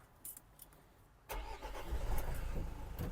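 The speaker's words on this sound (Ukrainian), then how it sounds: "Двигун запускається чудово" A few faint clicks, then a Renault Trafic van's engine cranks and catches, settling into a steady, rumbling idle close by.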